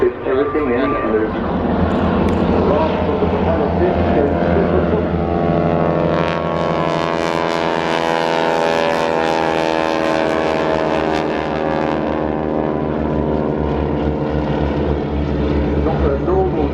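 An Airbus aircraft performing a flying display at the Farnborough airshow, its loud engine roar swelling as it passes close overhead, then fading slightly while staying steady and dominant.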